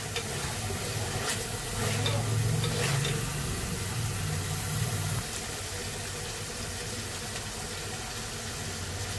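Tomatoes cooking with salt and ginger-garlic paste in a pan, a low continuous sizzle and bubbling, close and steady, louder through the first half then easing, with no talk.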